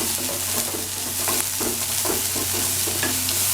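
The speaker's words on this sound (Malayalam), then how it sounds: "നന്നായിട്ട് ഇളക്കി കൊടുക്കുക." Green chillies and onions sizzle in a pan over a medium flame for a Kerala-style beans thoran, with loud, rhythmic stirring scrapes over a constant frying hiss and no voices.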